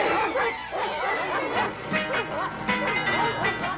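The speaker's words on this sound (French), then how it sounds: "ils ont lâché les chiens" Several cartoon dogs released to chase someone bark and yip excitedly in quick overlapping bursts, loud and close over a dense animated soundtrack.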